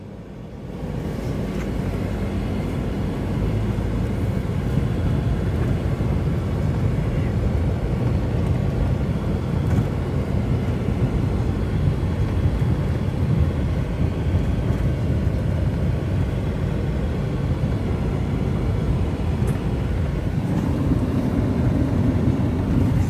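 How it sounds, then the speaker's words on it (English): Desert sandstorm wind roars steadily around a flapping tent, a dense unbroken rush of blowing air and buffeting that stays loud and constant throughout. "The sandstorm, this is the worst since I've been here."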